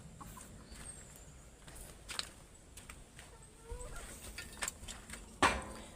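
A few scattered chicken clucks and squawks over a quiet outdoor background, with a sharper louder cluck near the end.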